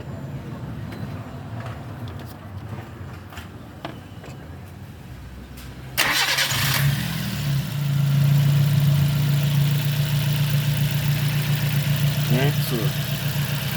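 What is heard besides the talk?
2006 Nissan Y11 AD QG15 engine starting and idling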